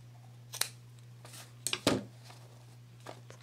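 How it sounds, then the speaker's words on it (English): Scissors trimming excess craft ribbon: a few quiet, quick snips with short pauses between, over a low steady hum in a quiet room. "you're just going to trim off the excess ribbon."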